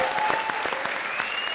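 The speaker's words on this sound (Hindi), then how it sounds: "ठोको ताली।" A short burst of clapping from a comedy show audience, a small group applauding with dense, quick claps at steady loudness.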